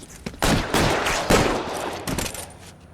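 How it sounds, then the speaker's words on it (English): Gunfire rattles through a shootout in L.A. Noire, with several loud, close bursts of overlapping shots in quick succession and short gaps between volleys. "211 and shots fired"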